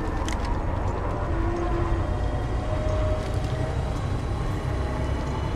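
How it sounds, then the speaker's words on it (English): A train departing in the video game Apex Legends Mobile, a steady loud rumbling roll with faint tonal whines drifting over it, continuous throughout. "The train is departing."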